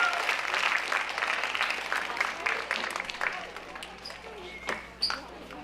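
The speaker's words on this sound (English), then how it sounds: "So let's give them a round of applause." Applause from a gathered audience at a junior high academic awards ceremony, a fairly quiet, roomy clapping that thins out and fades, with a few scattered louder claps near the end.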